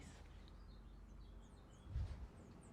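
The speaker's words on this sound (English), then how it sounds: "I think we have actual baby birds." Baby birds in a nest under a deck give faint, thin, high chirps, scattered repeatedly through a quiet outdoor background with a brief low thump near the end.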